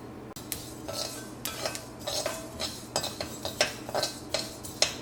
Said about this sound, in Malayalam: 1/2 കപ്പ് എള്ള് വറുത്തെടുക്കാം.